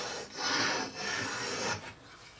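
A pencil on a beam compass dragging across a laminated wooden board, drawing an arc in a few soft, close scratchy strokes with brief pauses between them.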